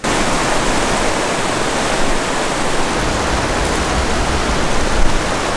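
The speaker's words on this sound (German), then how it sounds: "Hier kommt das Wasser jetzt an, schaut mal," Water rushes steadily down a channel toward a power plant on Nepal's Annapurna Circuit, a loud, continuous broadband roar that stays close and unbroken throughout, with no voices over it.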